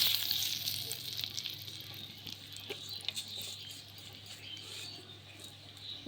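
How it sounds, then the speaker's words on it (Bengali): Bay leaf dropped into hot oil for tempering in a village kitchen, a soft crackling sizzle with small pops and light spattering, fairly faint and close. "তেলে এখন ফোড়ন দিয়ে দিব। প্রথমে দিয়ে দিব তেজপাতা,"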